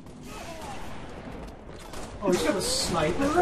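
Gunfire in Halo multiplayer: a fairly quiet stretch with faint background rattle, then a louder burst of shots and impact bursts in the final second, while a player's voice talks over much of it.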